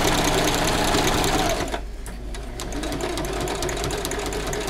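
A sewing machine stitching an appliqué for a cosplay costume, running in a fast steady mechanical whir that briefly dips and slows partway through, then resumes, close-up with no speech.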